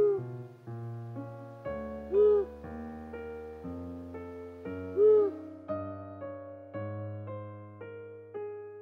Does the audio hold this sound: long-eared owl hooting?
yes